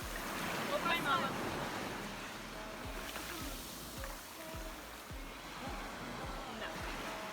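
Sea waves wash onto a beach in a steady, hissing surf under gusty wind noise on the microphone, with voices murmuring faintly now and then.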